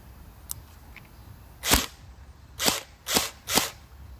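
An HK416 airsoft rifle at 282 FPS firing at a Samsung screen: two faint early clicks, then four loud, sharp, close shots spaced about half a second to a second apart, with no talking.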